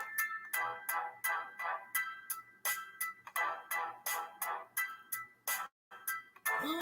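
Phone notification alerts arrive in a rapid string of about fifteen short, bright chimes, evenly spaced and fairly close, with no talking over them.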